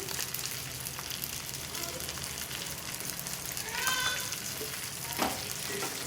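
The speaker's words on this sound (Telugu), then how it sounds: "చక్కగా కారం కూడా ఈ నూనెలో బాగా ఫ్రై అయిపోతుంది" Ground chili powder frying in hot oil with stuffed eggplant, a steady close sizzle that runs the whole way with scraping stirs, a few brighter crackles and a louder burst near the end.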